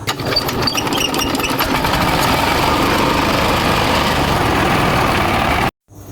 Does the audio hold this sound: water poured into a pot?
no